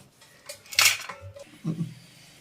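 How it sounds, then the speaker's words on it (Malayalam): A knife on a board cutting limes for Kerala-style lime pickle, a few knocks and a clattering scrape with a metallic ring, close and fairly quiet, no speech. "നമ്മൾ അച്ചാറിടാനുള്ള നാരങ്ങ കണ്ടിക്കാൻ പോവുകയാണ്"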